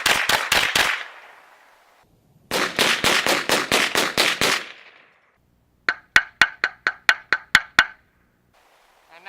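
.22 Long Rifle rounds fired into a TV in quick strings of sharp, loud cracks, two rapid bursts followed by a slower series of distinct single shots, close and without speech.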